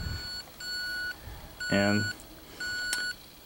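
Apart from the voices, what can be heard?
engine gauge alarm beeping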